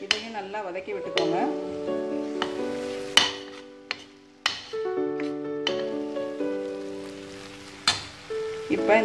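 Chilli powder sautéing with tomatoes in hot oil for egg kulambu, with soft sizzling and intermittent spoon stirring and scraping, under steady background music.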